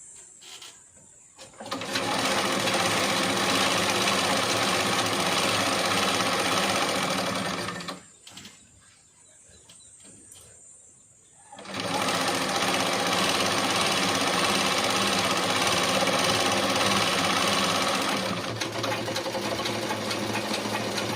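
A sewing machine stitches loudly and continuously up close, stops for a few seconds partway through, then runs steadily again to the end.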